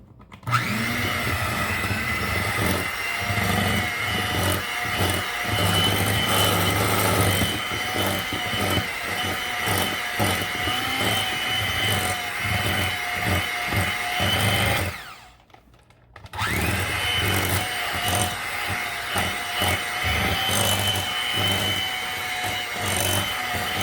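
An electric kitchen mixer blends 2¼ cups of sugar for cranberry squares, a loud steady motor whir running nearly the whole time, broken by one brief pause in the middle before it starts again.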